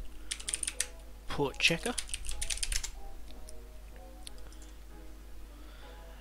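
Fingers type rapidly on a computer keyboard, a close cluster of clicky keystrokes in the first half followed by a few scattered taps, with a voice speaking briefly.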